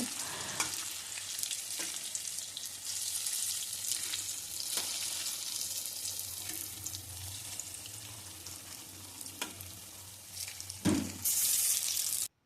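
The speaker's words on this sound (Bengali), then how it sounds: "কড়ার মধ্যে সবকটা পকোড়া দিয়ে দেওয়ার পর আমি আবারও উল্টে পাল্টে এই পকোড়াগুলোকে ভেজে নেব।" Vegetable pakoras deep-fry in oil in a kadai, a steady bubbling hiss with occasional scrapes and clinks as they are turned, fairly quiet and without voices, ending abruptly.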